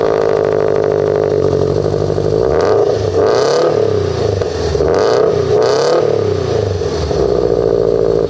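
Subaru BRZ with a Greddy Evo GT catback exhaust, idling loudly up close and then blipped through several sharp revs, each rising and dropping back to a deep, rumbling idle.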